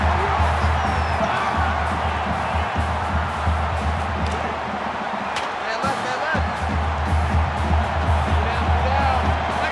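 Stadium crowd cheering in an NCAA Football video game, Miami Hurricanes vs LSU Tigers, a constant loud roar with low rumble, briefly dipping midway, while commentary voices talk over it.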